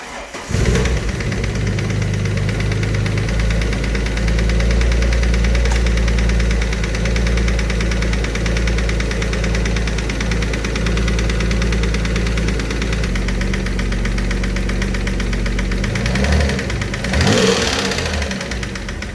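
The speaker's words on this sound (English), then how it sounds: "Oh man, so yeah, bottom end is knocking." A rebuilt Alfa Romeo 147 GTA engine idles steadily and loudly up close, with a knocking from the bottom end running through its low rumble.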